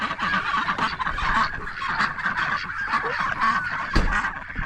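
A duck honks repeatedly in close, nasal, goose-like calls that overlap in an uneven, continuous stream with no talk.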